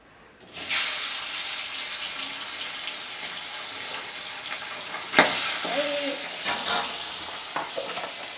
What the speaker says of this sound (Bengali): মাছ যাতে লেগে না যায় সেজন্য একটু তেল দিয়ে দিলাম